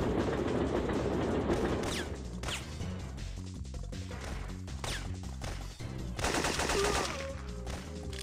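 Gunfire bursts in the video game Syphon Filter, sharp rapid shots and crashes layered over a steady game music and ambience bed, loud and dense across the whole stretch.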